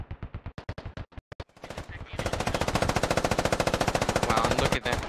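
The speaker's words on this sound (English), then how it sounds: "A massive amount of engagement here by Squad 1 shooting at militia" Sustained machine gun fire during a squad battle against militia, starting as separate short bursts and then running as a loud, continuous rapid stream of shots with a brief break near the end.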